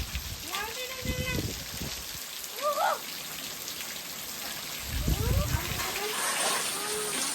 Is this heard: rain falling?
yes